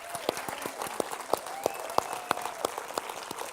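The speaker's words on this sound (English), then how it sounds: "Ladies and gentlemen, a big applause." Applause from an audience at an education forum, scattered individual hand claps standing out sharply over a softer wash of clapping, moderately close and steady for a few seconds.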